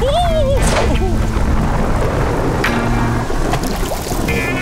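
Rain and rumbling thunder in a Paw Patrol children's cartoon: steady broadband downpour with brief cracks, under character voices and bright musical tones.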